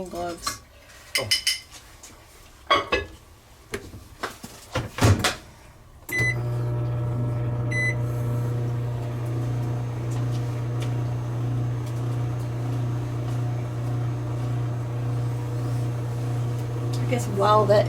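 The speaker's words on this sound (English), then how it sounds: "I'm going to do that in the microwave." Kitchen clatter of dishes and utensils comes first, then a home microwave oven starts and hums loudly and steadily at close range for the rest of the time, with faint clinks over it.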